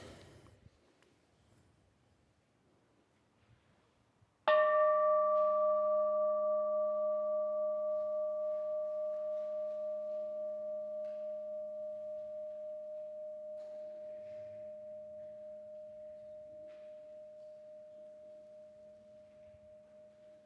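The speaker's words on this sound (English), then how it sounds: "as I ring our bell, let the sound connect us." A single meditation bell is struck once after a few quiet seconds, ringing clearly with a bright attack and a long, pure, slowly fading tone that hangs for over fifteen seconds in a quiet room.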